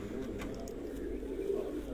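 Pigeons kept in a loft setup coo softly and continuously, a low murmuring throb at faint level with no talk.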